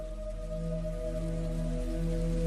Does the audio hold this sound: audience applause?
no